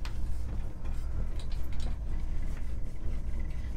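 A low, steady engine rumble after a cold start runs throughout with faint ticking mechanical clatter on top, muffled and moderately loud, a 1964 Chevy C10 pickup engine heard from inside the cab.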